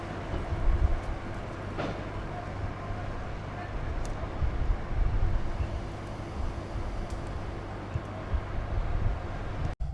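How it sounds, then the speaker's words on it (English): Diesel locomotive 66190 shunts wagons at Nottingley Depot, with a steady low rumble, an occasional metallic clank and a sharp knock near the end. "66190 can also be seen shunting wagons in Nottingley Depot."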